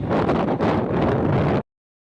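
Strong wind buffets the microphone outdoors on a walk toward a temple, a loud continuous roar with rushing gusts that cuts off abruptly after about a second and a half.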